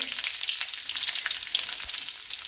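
Garlic fries in hot oil with mustard seeds for a Kerala raw plantain curry, crackling and spitting in quick, dense pops over a light hiss, close and moderately loud.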